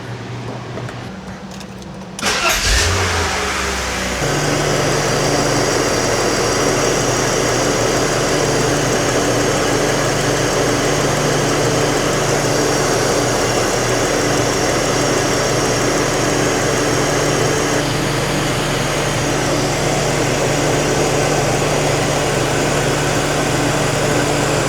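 A BMW E46 330Ci with the M54 inline-six, just after a coolant flush, cranks and fires, then settles into a steady, close, loud idle that runs unbroken for about twenty seconds with no talking.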